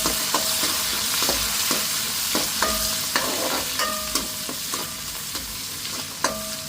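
Curry leaves and green chillies sautéing in a pan, stirred with repeated scraping strokes over a steady, close sizzle with no talking.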